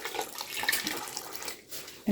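Water poured into a glass canning jar while home-canning applesauce, a steady splashing, trickling pour lasting about two seconds, close by and fairly soft.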